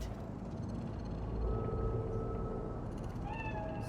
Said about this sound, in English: So? It's a cat like any other.